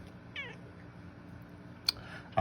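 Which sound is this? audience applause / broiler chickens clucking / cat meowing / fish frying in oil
cat meowing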